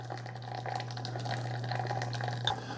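Hot water flows steadily from a Bunn Speed Brew Platinum Thermal 10-cup coffee maker during descaling, a continuous, fairly quiet pouring and trickling stream with a low steady hum beneath it.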